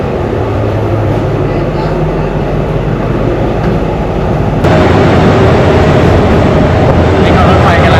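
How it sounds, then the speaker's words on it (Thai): Train 201 pulling out towards Lopburi in Thailand, a loud continuous rumble and clatter of rail cars that grows rougher and louder about halfway through as it gets moving. "นี่ก็รถไฟกำลังออกตัวนะครับ"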